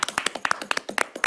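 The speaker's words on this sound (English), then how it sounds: "I think you guys get a round of applause" Applause breaks out at a school board meeting, a quick scattered round of hand clapping with uneven, overlapping claps from several people throughout.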